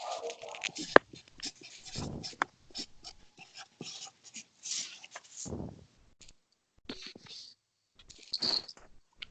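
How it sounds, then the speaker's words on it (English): A marker scratches across paper in short, irregular strokes and squeaks, close and fairly quiet, broken by brief pauses and a few soft clicks. "I can hear the marker on the paper."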